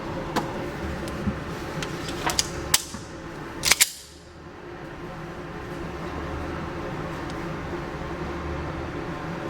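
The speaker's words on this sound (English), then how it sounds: "At the range with the Glock 26, getting rid of some Monarch 9mm 115 grain steel case" A Glock 26 pistol fires Monarch 9mm 115 grain steel-case ammo at a shooting range, giving a string of sharp cracks in uneven rhythm, several of them faint and a pair louder near the middle, over steady background noise.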